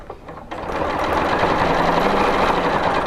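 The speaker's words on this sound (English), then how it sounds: "And I am going to start stitching." A sewing machine runs steadily in free-motion stitching on a quilt held in a Q-zone hoop frame, starting after a half-second of quieter handling and then holding a fast, even mechanical whir close up.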